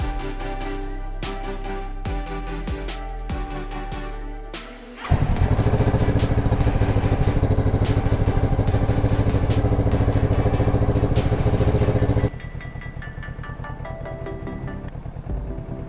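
A Kawasaki Ninja 650 with its stock exhaust: a few clicks and a starter crank, then the engine fires and idles loudly and steadily up close, dropping to a lower, quieter idle after several seconds.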